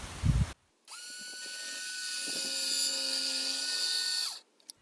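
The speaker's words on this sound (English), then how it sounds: "Do a drop cut with a circular saw on the other two." A circular saw makes a drop cut into shiplap boards, the blade whining up sharply and holding a steady, loud, high-pitched buzz for about three and a half seconds before cutting off, with a brief knock just before it starts.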